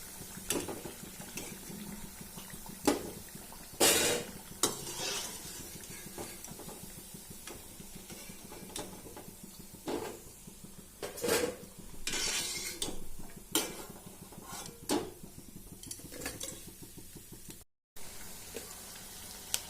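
Sabudana vadas fry in hot oil, a soft sizzle running under frequent clinks and clatters of a metal spoon and pan, with louder scraping bursts scattered throughout and no talking.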